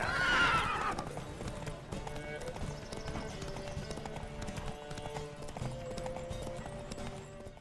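A horse neighs, then hooves clip-clop at a steady gallop during a horse race in The Witcher 3 video game, under game music and someone talking.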